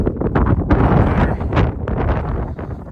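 Strong gusting wind buffets the microphone with continuous roaring, rumbling noise, loud and close throughout.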